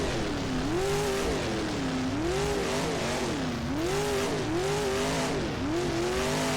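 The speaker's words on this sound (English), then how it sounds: "Oh, someone just drove past us there." Dirt modified race car in rFactor 2, its engine note rising and falling through repeated throttle sweeps as it passes, loud and steady with no speech.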